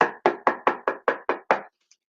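Eight sharp knocks on a front door in a steady, quick rhythm, close and loud, then silence.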